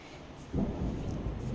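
Low thunder rumbles in the distance under a partly sunny, cloudy sky, a soft swelling roll that rises about halfway through and lingers faintly with no voices over it.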